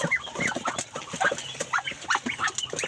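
Farm ducks in the Philippines make a busy run of repeated close quacks and clucking calls, overlapping one another in quick bursts.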